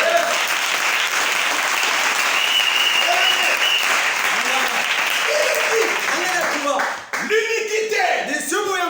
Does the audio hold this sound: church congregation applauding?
yes